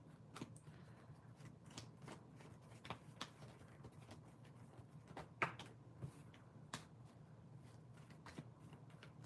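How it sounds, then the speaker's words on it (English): Tarot cards are shuffled by hand, a faint, soft patter of card-on-card riffles and slides with scattered sharper flicks, quiet and close with no talking. "Giving it a good shuffle."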